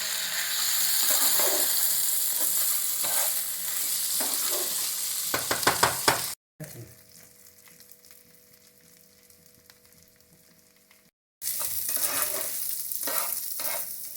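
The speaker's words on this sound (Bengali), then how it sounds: "চালটা এর ভেতরে দিয়ে দিচ্ছি। তো এটাকে আমি হালকা ফ্রাই করে নেব।" Rice fries lightly in a pan for vegetarian basanti pulao, with a soft steady sizzle and frequent close scraping stirs, briefly cutting to a quieter hum before the stirring and frying resume.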